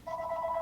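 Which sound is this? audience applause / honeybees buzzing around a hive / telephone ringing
telephone ringing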